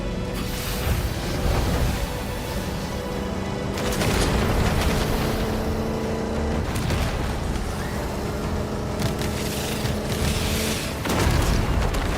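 Explosions rip through a Halo level, a rolling series of heavy booms with crackling debris and bursts like gunfire, loud and dense throughout with surges near four and eleven seconds.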